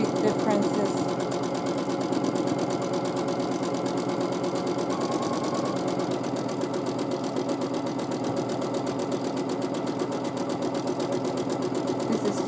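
A sewing machine quilting fabric runs with a fast, steady mechanical chatter of stitches throughout, close and continuous, while a person talks over it.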